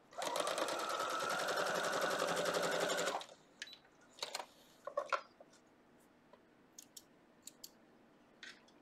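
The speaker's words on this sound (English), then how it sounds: "We're going to sew these 2 together." A sewing machine stitches quilt block pieces together in a steady, fast mechanical run for about three seconds, then stops, followed by scattered soft clicks and handling noises of fabric and the machine.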